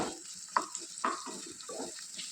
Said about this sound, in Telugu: ఆయిల్ హీట్ అయిన తర్వాత కాకరకాయ ముక్కల్ని వేసి దోరగా వేయించుకోవాలి